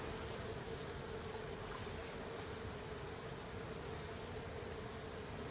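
Honey bees swarm around an opened hive, a dense, continuous buzzing hum that stays steady and close for the whole stretch, with no voices over it.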